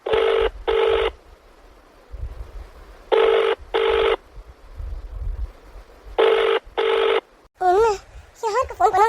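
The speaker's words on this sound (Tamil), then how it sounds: "சந்தியாவுக்கு ஃபோன் அடிப்போம்." A telephone rings in repeated paired bursts, loud and close, with quiet gaps between rings and faint voices in the background, ending in a warbling electronic tone.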